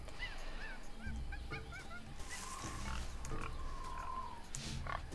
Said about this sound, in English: Boar sounds.